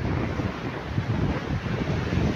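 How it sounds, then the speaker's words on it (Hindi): Ocean waves and wind at Pasni city beach make a steady, close rushing wash of surf with wind buffeting the microphone, with no voices. "आप देख सकते हैं जो बड़ी बड़ी लहरें हैं वो बन रही हैं"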